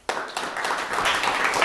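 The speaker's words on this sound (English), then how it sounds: "You can give yourselves a round of applause" A graduation audience in Ellicott City breaks into a dense burst of applause that starts suddenly and holds steady and loud, many hands clapping together in a large hall.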